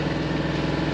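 A sailboat's inboard engine cruising at 2,000 RPM under way along a coast, a steady low rhythmic throb heard alone.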